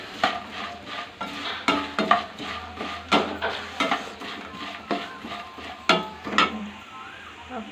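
A spoon scrapes and stirs avalakki with turmeric powder in a pan, a series of irregular, sharp scraping strokes with light sizzling between them, close and moderately loud.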